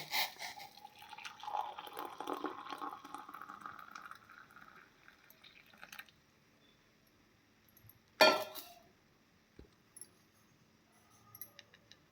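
Boiling water is poured into a bowl for a few seconds, a splashing trickle that fades, followed later by a sharp clink and quiet.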